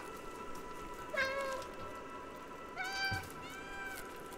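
Kitties in the video game Stray meow twice, a short cry followed after a pause by a longer, rising one, both close and distinct over a low ambient hum.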